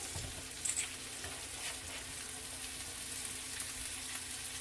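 Homemade hash browns fry in a pan with a steady, dense sizzle and crackle that holds even and close throughout, with no voices.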